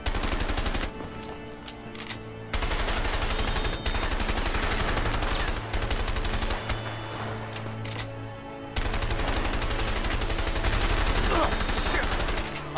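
Sustained gunfire in the video game A Way Out, a long dense stream of loud shots with brief pauses and near, continuous volleys throughout.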